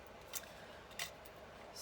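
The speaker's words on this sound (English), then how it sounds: "Get my scissors out here." Scissors snip the leftover edges of Stampin' Dimensionals foam adhesive sheets for autumn card making, two quiet crisp cuts about half a second apart in a hushed indoor room.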